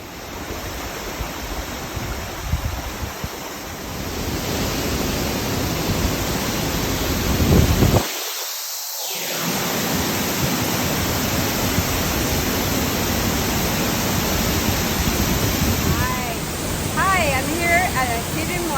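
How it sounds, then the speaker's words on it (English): Gljufrabui waterfall in Iceland, hidden inside a cave, gives off a loud, dense, unbroken roar that fills the space, with one brief muffled dropout partway through and no voices heard. "At a hidden waterfall. It's really awesome. It's inside this cave."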